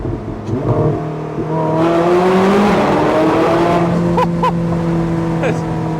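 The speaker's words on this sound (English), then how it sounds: "Let's listen to the 918 Spyder." A Porsche 918 Spyder engine revs and roars steadily up close, its pitch climbing and shifting as it accelerates, loud and continuous throughout.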